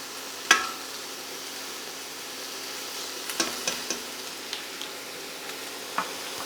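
A pot of tomato puree and dried thyme sizzling for a vegetarian bourguignon, a soft steady fry broken by a sharp knock and then a run of small scraping stirs and taps.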